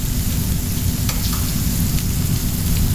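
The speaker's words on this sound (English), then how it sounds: "So this is the second batch I am frying." Mushrooms sizzle and fry steadily in a pan for an Indo-Chinese mushroom masala, a dense, continuous crackle with a few sharper pops, close and loud with no talking.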